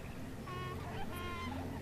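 Fowl in a pasture in the video game Banished give a few nasal, honking calls over a steady soft ambient bed, distant and fairly quiet, without speech.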